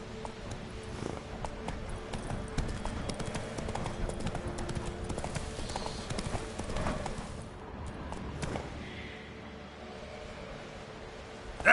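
Roach, the horse in The Witcher 3, trots with a steady clip-clop of hooves. The beat runs without a break under a background game ambience, and the hoofbeats sound moderately close.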